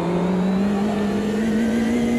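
A race car engine in the Automobilista 2 racing game holds a steady, loud high-rev whine that climbs slowly in pitch throughout, with no voices over it.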